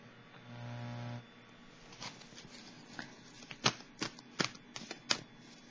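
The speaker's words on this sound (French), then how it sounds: "On va piger une autre carte du tarot psychique." Tarot cards are shuffled with a steady riffling rustle, then drawn one at a time with crisp, close snaps and flicks.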